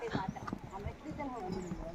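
Hooves of a pack horse loaded with luggage, potatoes and a gas cylinder clip-clop on a mountain trekking trail toward Tiger's Nest, a steady run of close hoof strikes under constant talk.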